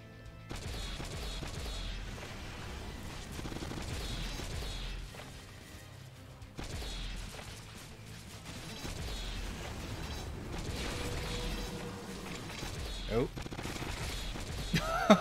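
Rapid turret fire from the Orcs Must Die game, dense and continuous, layered with impacts, crashes and clattering mechanisms over a busy game soundtrack, with occasional talk mixed in.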